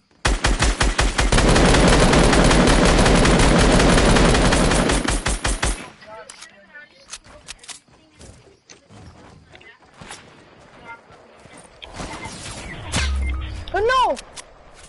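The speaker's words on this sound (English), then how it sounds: "I'm shooting him." Rapid bursts of automatic gunfire from the Fortnite video game fill the first six seconds, loud and dense, before fading into scattered in-game effects while players talk excitedly over the action.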